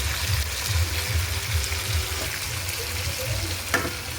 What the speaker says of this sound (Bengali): ঢাকনা খুলে এবার আমি মাংসটাকে একটু নেড়ে চেড়ে নেবো